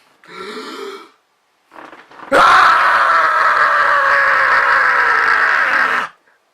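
A person's voice imitates the Attack on Titan anime battle scream, long and strained, loud and close, preceded by two short vocal bursts.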